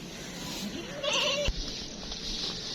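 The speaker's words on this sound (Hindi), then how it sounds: "पहले जो है ना इस बकरे को डाल रहे हैं, और इस बकरी को भी।" A goat bleats loudly nearby as a male goat and a female goat are put into a pen in a village, one wavering cry over a brief thump and outdoor background noise.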